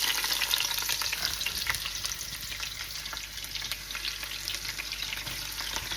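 Small onions sizzle in hot groundnut oil in a cooking pot, a steady, crackling hiss with scattered bright pops that continues evenly for six seconds, no voices.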